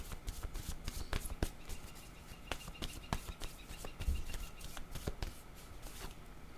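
Playing cards being shuffled before the deck is cut, a soft, close riffling and flicking with many quick irregular taps, fairly quiet and steady throughout.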